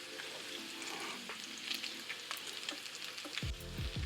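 Bacon frying in a hot pan, a steady dense sizzle and crackle throughout, with brief clinks and scrapes of strips being moved around, louder stirring noises near the end.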